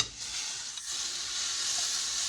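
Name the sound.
stirring vegetables frying in a pan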